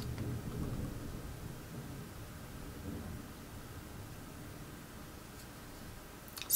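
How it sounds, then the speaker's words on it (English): A low, distant rumble of thunder rolls over steady rain-like hiss, fading gradually, with no voices. "Some thunder."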